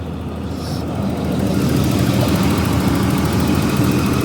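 A Jaguar XJ40 car engine runs steadily at idle, loud and close, with a dense low rumble that swells slightly after the first second and then holds even throughout, with no voices.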